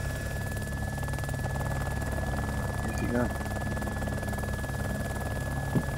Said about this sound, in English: let's just bail out of the heli.